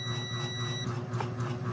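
A shorted Bluetooth mini subwoofer emits a steady high-pitched buzzer tone with a low electrical hum underneath, the tone stopping partway through while the hum continues.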